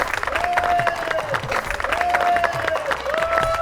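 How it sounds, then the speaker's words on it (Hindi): Studio audience applause and crowd noise for two guests, Raju and Rajan, on a Hindi comedy show set in Gokuldham Society, steady and moderately loud, with a repeated rising tonal sound effect layered over it. "जरा जोरदार तालियां बजाएं राजू और राजन के लिए"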